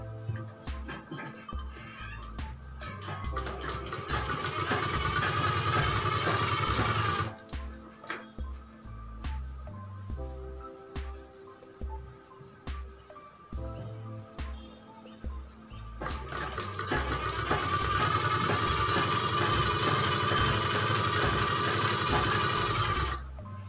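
A sewing machine stitches a designer top in two long, steady motorized runs with a rhythmic whirring buzz, separated by a pause of light clicks and handling sounds.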